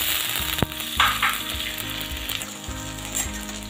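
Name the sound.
peas frying with cauliflower in a pan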